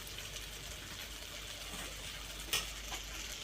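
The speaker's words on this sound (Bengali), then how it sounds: "এবার ম্যারিনেট করা চিকেনটা দিয়ে দেব।" Marinated chicken hits hot spiced oil in which the masala has already released its fat, for a thin chicken and green-jackfruit curry, giving off a steady, soft, even sizzling hiss with one small sharper crackle partway through.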